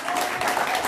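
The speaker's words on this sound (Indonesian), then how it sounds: "tepuk tangan dong" Brief burst of studio audience applause, a dense wash of clapping that is close and fairly loud, lasting under a second.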